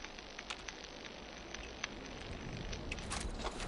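A player's weapon in the Fallout 76 video game gives off a steady, faint crackling fizz, with scattered sharper pops and bright ticks over a low background hum, growing slightly denser toward the end.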